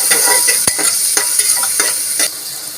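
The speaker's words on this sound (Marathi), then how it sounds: "अद्रक लसूण आणि कोथिंबीर याची गंची पेस्ट केलेली ती टाकत आहे आणि अख्खा टोमॅटो आहे तो पण चिरून घेतलेला आहे तो पण टाकत आहे आणि आता हे चांगलं परतून घेणार आहोत" Ginger, garlic and coriander paste with chopped tomato sautéing in a pan for a mutton curry, a loud close sizzle broken by several sharp spatula scrapes and stirs.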